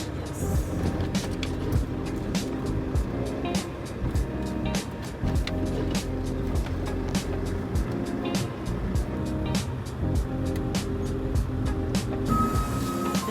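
A truck's reversing alarm beeps in a steady, regular rhythm while the truck parks to pick up a load, the repeated tones running over a low engine rumble throughout.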